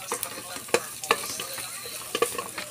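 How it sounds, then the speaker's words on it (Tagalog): Chicken adobo is stirred in a sizzling pan, with a steady frying hiss punctuated by several sharp scrapes and clinks of the utensil against the pan. "Mekos-mekos. Hanggang sa maluto."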